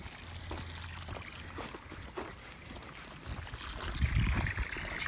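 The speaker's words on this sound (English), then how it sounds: "Turn off the hose from filling up the calf water." A garden hose runs into a calf water trough outdoors, a faint steady pouring and trickling stream that swells slightly toward the end, without speech.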